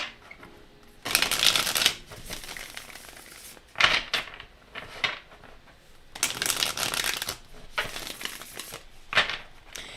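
Tarot cards being shuffled by hand, several separate riffling bursts, close and crisp, separated by short pauses.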